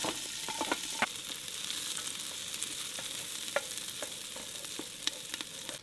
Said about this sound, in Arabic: الحين فقرة الزيت وفقرة الصوت، احلى صوت مع البصل